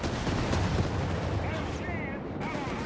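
Dense gunfire and artillery-like bursts from a Company of Heroes 3 World War II battle between Italian Bersaglieri infantry and British troops, a continuous loud rumble of shots with some higher whistling sounds near the end.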